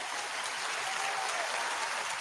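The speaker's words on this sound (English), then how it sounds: "get ready for the applause, please" Applause played over a talk radio broadcast: a steady, even wash of many clapping hands, moderately loud and continuous, with no voices over it.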